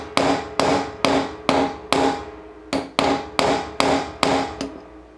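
Nine sharp metallic hammer whacks strike 9 carat gold held in an old pair of pliers, evenly spaced and loud, each ringing briefly before the next blow, with no voice.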